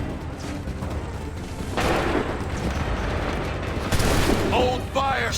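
Musket volleys crack out in Assassin's Creed III battle scene, two loud bursts of gunfire with smoky rumbling tails over a constant din of battle noise, with shouting voices mixed in.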